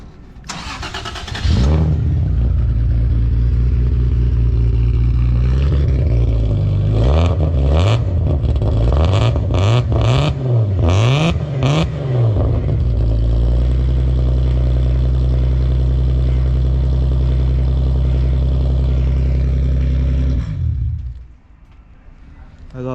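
A car engine with a straight-pipe exhaust starts and idles with a rough, loud exhaust, then revs up and down several times in quick blips before settling into a steady rumble.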